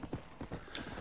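Horse hooves clip-clopping in the video game Red Dead Redemption, a quick series of soft, irregular thuds at moderate distance, alone without talk.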